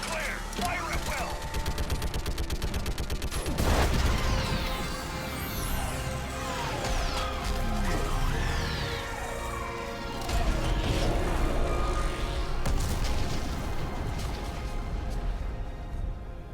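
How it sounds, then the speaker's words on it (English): Orbital strike explosions in Mass Effect 3 against a Reaper, heavy booms and crashing impacts rolling through dense, loud battle noise with gunfire and whooshes, sustained across the whole stretch. "I need an orbital strike."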